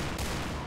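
A Colt Python revolver fires in the shooter game Point Blank: a loud, dense burst of gunfire that fills the brief moment with no voices.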